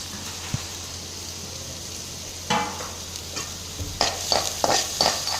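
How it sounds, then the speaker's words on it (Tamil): Onions sizzling in a pan with stirring scrapes that grow busier toward the end, over a steady low hum. "ஆனியன் ஆட் பண்ணி நம்ம நல்லா ஃப்ரை பண்ணணும்."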